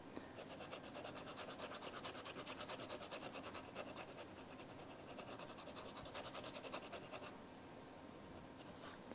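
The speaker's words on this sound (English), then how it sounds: "So now you're going to want to scuff up the attachment pad." Someone scuffs a leather attachment pad for a wallet, making soft, continuous scratchy rubbing strokes in a steady rhythm. The sound is quiet and close, with no talking.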